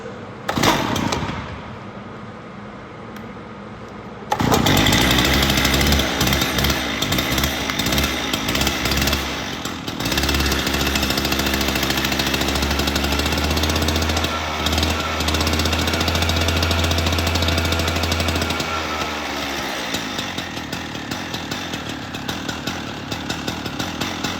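A gas cut-off saw's small engine roars and revs loudly and continuously, with a rough mechanical rattle, after a quieter opening few seconds.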